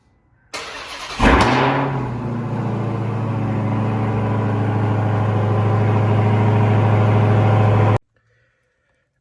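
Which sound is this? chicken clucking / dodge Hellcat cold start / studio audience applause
dodge Hellcat cold start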